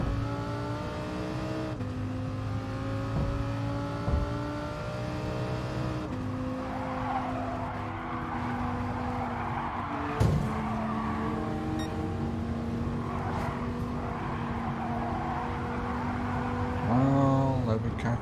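A McLaren race car in Gran Turismo Sport drives with a steady, high engine drone that shifts pitch through gear changes, with a sharp knock partway and tire squeal and a rev rise near the end.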